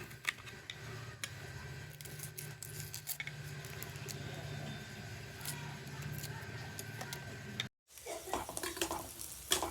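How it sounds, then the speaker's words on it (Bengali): Onions frying in a kadai: a soft, steady sizzle with scattered light clicks and scrapes of stirring, quiet and close. It cuts out briefly near the end, then returns with a louder rustle. "কড়াই দিয়ে পেঁয়াজ পোড়াচ্ছি আলু ভর্তাতে দিব বলে।"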